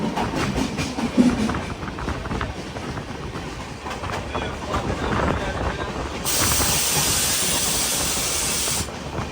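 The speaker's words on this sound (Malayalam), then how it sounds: "ട്രെയിൻ ഇപ്പോൾ കാസർഗോഡ് റെയിൽവേ സ്റ്റേഷനിലേക്ക് എത്തിക്കൊണ്ടിരിക്കുകയാണ്." Express train arriving at Kasaragod railway station, a continuous rumbling rail noise with rhythmic clatter and a loud hiss rising in the last few seconds, no talk.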